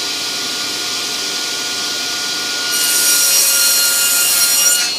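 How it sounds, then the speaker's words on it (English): A table saw trims wood pieces to shape for a routed wooden sign, giving a steady broadband whine that grows louder and brighter partway through the cut, close and continuous with no talking. "Trim those to shape with my table saw"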